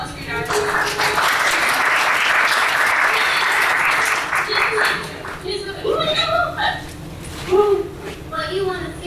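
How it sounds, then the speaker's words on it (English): Audience applause during a vocal masterclass, a loud burst of clapping for the first half that fades out as a person begins talking over the tail. "can we get another round of applause for Yaru?"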